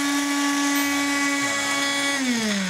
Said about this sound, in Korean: 믹서에서 살짝 돌려주시면 보풀이도 잘 되고 그래요.